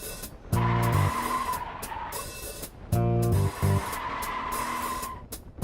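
A stock Ford F53 motorhome coach in an emergency handling test makes a steady engine roar, broken twice by loud tonal tire squeals lasting about half a second each, with no voices.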